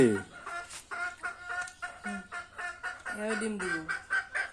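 Farmyard chickens cluck in a close, repeated rhythm of short calls, several birds overlapping in a rural setting, with no one talking over them.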